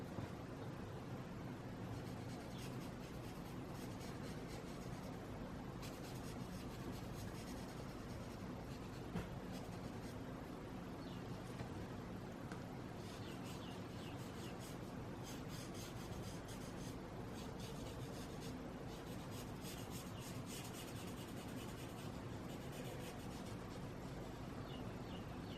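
Marker strokes rub softly across paper in a manga coloring book, a faint, close, continuous scratchy scrubbing with short pauses between passes.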